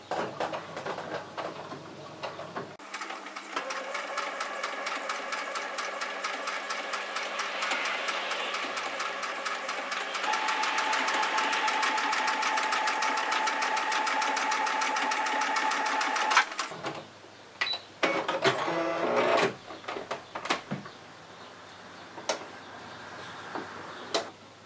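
A sewing machine fitted with a twin needle stitches a hem in one long, steady run, its fast mechanical ticking and motor whir close and loud, followed by a few scattered clunks and handling noises once it stops.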